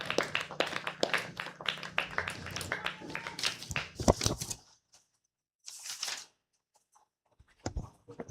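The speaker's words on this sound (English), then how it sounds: "Let's have a nice round of applause for our runners-up" Brief scattered clapping from a small crowd at a Babe Ruth Class B state baseball tournament, honoring the runners-up, fading out after a few seconds with quiet gaps and a few later claps.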